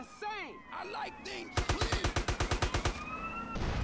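Rapid gunfire bursts in GTA San Andreas, a quick even string of about a dozen sharp shots at mid distance, mixed with game sounds and excited talk before it.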